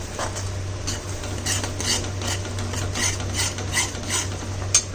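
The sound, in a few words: stirring sugar into ridge gourd peel paste in a wok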